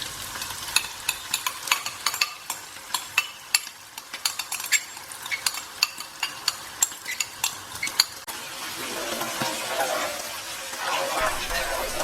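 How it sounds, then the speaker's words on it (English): Pork mince stir-fried in a wok with salt and marinade, sizzling steadily while a utensil scrapes and taps in rapid irregular strokes, the frying growing into a continuous hiss near the end. "Mix that beautiful sauce through with the mince nicely."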